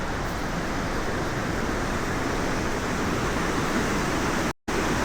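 Shuswap Falls rushes with a loud, continuous broadband roar of heavy falling water, steady throughout, with a brief dropout near the end.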